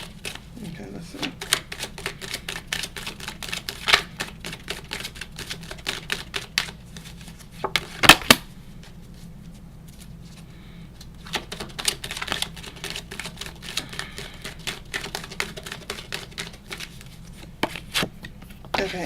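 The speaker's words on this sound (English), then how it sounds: "how I pull the cards is I keep shuffling them" A deck of oracle cards is shuffled by hand in repeated quick bursts of crisp riffling clicks, close and fairly loud, pausing briefly between runs while a person talks quietly beneath.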